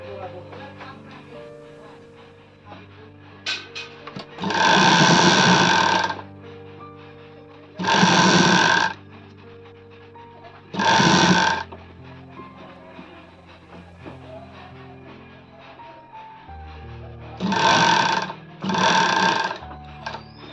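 A sewing machine stitches a readymade sleeveless kurti in five loud bursts of running, each a few seconds long, separated by quieter pauses with faint handling noise.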